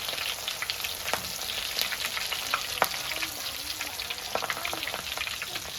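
Prawns fry in peanut oil in a pan with a steady, dense sizzle and scattered sharp pops and crackles, continuous and close, with no voices.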